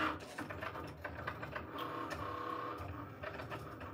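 Cricut Maker cutting vinyl car decals, a close whirring motor with rapid clicking and buzzing carriage movements, fairly faint and steady with no talk.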